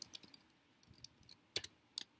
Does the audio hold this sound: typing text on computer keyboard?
yes